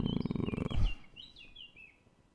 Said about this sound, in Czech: doufám, že slyšíte trošku ptáčky